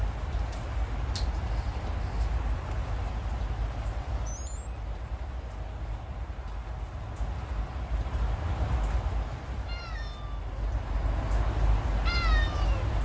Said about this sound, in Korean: 좀 전에 고양이 우는 소리가 들렸는데